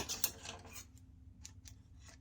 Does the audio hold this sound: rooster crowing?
no